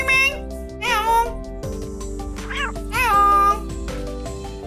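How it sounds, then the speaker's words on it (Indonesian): A cat meows several times in the video game Cafe Owner Simulator, rising cries standing out against steady background game music. "Ada kucing."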